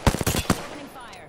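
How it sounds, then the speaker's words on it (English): A quick burst of gunfire opens up in a flight-combat game, several sharp rapid shots in the first half-second, then a fading tail and low whine. "Opening fire."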